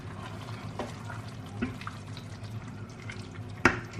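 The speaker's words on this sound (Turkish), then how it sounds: "Ve kısık ateşte pişiriyorum." Spinach with minced meat simmering on low heat in a pot, a soft continuous bubbling with faint scattered pops and drips, quiet and close, one brief sharper tap near the end.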